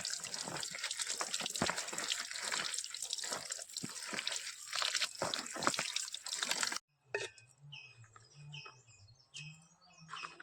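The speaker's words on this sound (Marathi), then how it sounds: "ही शेगलाची फुलां स्वच्छ धुवून घेऊ" Drumstick (shevga) flowers are rinsed in water, with splashing and dripping close by for several seconds before the sound cuts to quieter drips and faint birdsong.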